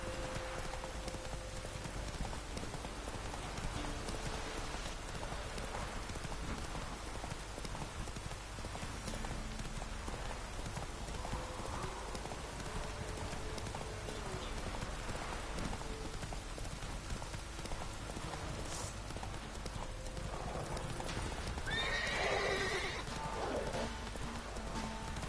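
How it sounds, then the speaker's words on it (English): Horse hooves clip-clop in a steady rhythmic gait while riding through Skellige in The Witcher 3, heard at moderate level under constant ambient game noise, with a brief whinny-like cry near the end. "I'm on a horse."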